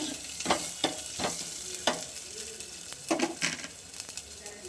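Rasam tempering sizzles in a hot pan as asafoetida goes in, with steady frying hiss broken by repeated scraping stirs, close and fairly quiet.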